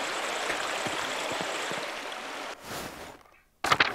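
A stream and waterfall flow in the video game Pentiment, a steady rushing murmur that cuts out after about two and a half seconds and briefly returns near the end.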